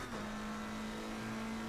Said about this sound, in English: Okay, Robin, the next car is Zebra.